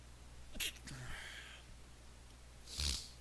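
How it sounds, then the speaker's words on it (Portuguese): A single sneeze near the end from a teacher in a quiet classroom, preceded by faint sniffing and breathy sounds, close but soft with low background hum. "Ai, vontade de espirrar"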